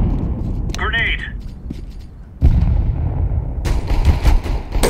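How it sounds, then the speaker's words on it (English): In CS:GO, a grenade goes off midway with a sudden loud, booming blast, followed by lingering rumble and further scattered gunfire-like cracks, with faint game sounds and voices before it. "Throwing a grenade"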